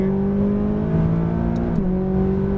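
A McLaren 570S on a race track holds a steady, loud engine drone at high revs, the pitch dipping briefly with a gear change before settling again, heard from inside the car.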